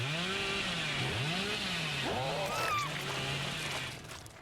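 The Hillbilly's chainsaw in Dead by Daylight revs steadily, its engine note swooping up and down in pitch over a constant droning roar, loud and close throughout, with a brief high squeal partway through.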